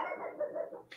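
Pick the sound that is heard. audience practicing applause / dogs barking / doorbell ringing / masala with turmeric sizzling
dogs barking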